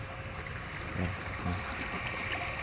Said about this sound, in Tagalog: malakas yung tubig